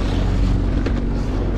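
Fishing boat engine running at steady set revs during light-gear bream fishing off the UK, a constant low rumble with wind and water noise, close and loud throughout.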